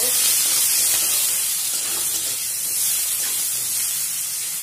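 Potatoes seasoned with salt and turmeric fry in a pan, giving a loud, dense, unbroken hiss that holds level throughout.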